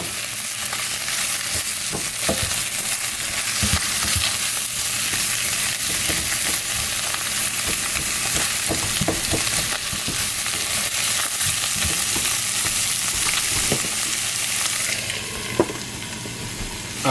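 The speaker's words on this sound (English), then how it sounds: "let's just stir around our onions and mushrooms and garlic" Onions, mushrooms and garlic sizzle steadily in a hot pan for beef stroganoff, with frequent scraping stir strokes over the continuous frying hiss, close and fairly loud throughout.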